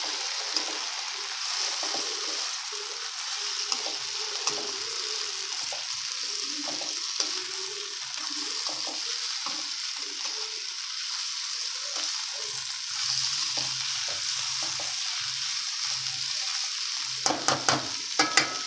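Broad beans frying in a pan while being stirred, a steady sizzle with scattered scrapes and clinks of the spoon, a short burst of sharp clatter near the end.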